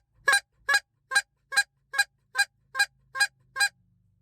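Goose call blown in nine short, sharp honking break notes, evenly spaced about half a second apart, close and crisp against near silence.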